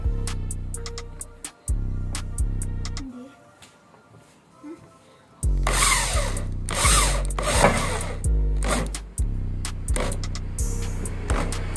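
A power drill drives screws during a car spoiler install, whirring in repeated bursts with rising and falling motor pitch, together with clanks and handling noise. People talk intermittently.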